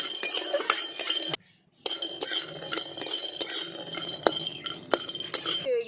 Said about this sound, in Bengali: এগুলো সব আগে আমি একটু ভেজে নেব চিনা বাদামটা পরিষ্কার করে এগুলো